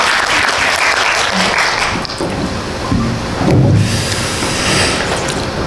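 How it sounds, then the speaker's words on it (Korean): A full hall applauds at a memorial screening and talk for the film Butterfly Sleep, the clapping loud and close, so dense it forms a rain-like roar that swells and eases without pause. "박수 부탁드립니다"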